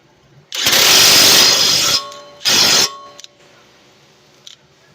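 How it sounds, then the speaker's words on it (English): A bolt on the front ball joint of a 2017 Dodge Charger is tightened with a loud power tool, probably an impact wrench, in two bursts: a long one of about a second and a half, then a shorter one, and then quiet workshop clicks. "Now we're gonna tighten that bolt right here. That's the ball joint bolt."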